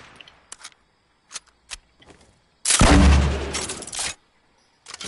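Burst of gunfire in Fortnite Battle Royale competitive console play, one loud sustained volley of rapid shots lasting over a second, set among scattered shorter sharp game sounds.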